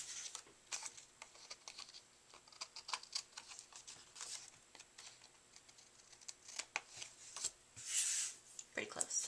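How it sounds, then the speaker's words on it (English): Cardstock for a Halloween card being trimmed: faint, quick papery clicks and scrapes with a louder slicing swipe near the end, under someone talking. "so I'll go ahead and trim that off."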